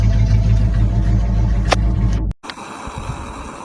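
An old square-bodied car engine runs with a loud, close, rumbling idle that cuts off abruptly near the end, leaving quieter background noise.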